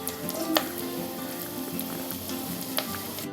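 Grated coconut sautéing in ghee with chopped jaggery added, a steady close sizzle and crackle with a couple of sharp spatula scrapes, no voices.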